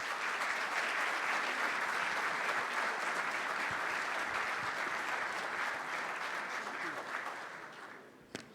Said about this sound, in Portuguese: recebo com uma salva de palmas doutora Jane Luiz, por favor.